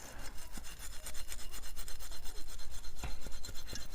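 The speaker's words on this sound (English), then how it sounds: "pinch it in between the steel wool, and then what you want to do is you want to move it up and down. This will take care of the rust," Steel wool rubs back and forth over rusty toy train wheels and axles from a postwar Lionel set, a close, continuous rapid scratchy scrubbing with quick rhythmic strokes and no talk.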